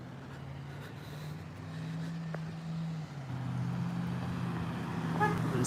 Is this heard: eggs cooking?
no